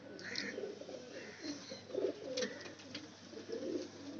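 Pigeons coo in low, repeated throaty phrases at close range, with a soft continuous background and a few faint higher chirps; kept pigeons of red colouring with light eyes, offered for sale in Lahore.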